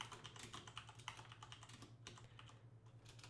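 Rapid, steady keystrokes on a computer keyboard, a dense run of light clicks close by with a constant low hum underneath and no talking.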